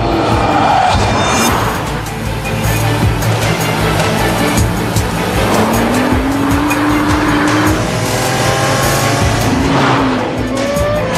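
A Nissan GT-R supercar drives hard, its engine note rising and falling with tire squeal, loud and close throughout over a low musical backing.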